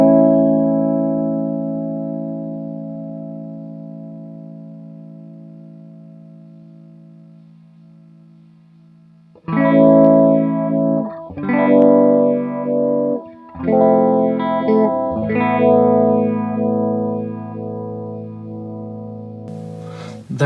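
An electric guitar through a Univibe pedal: a sustained chord slowly decays with a warm, pulsing wobble, then several new strummed chords ring out, each throbbing with a swirling phase-shifting modulation.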